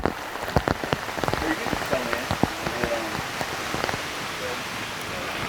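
A sudden rain shower patters steadily on a surface, with scattered louder drops tapping irregularly throughout.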